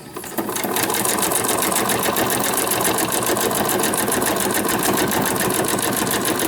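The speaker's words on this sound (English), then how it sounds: "So I will just continue to just stitch." A sewing machine runs continuously while stitching a Midori-style journal cover made from fabric scraps, with a loud, fast, steady needle rattle that starts almost at once.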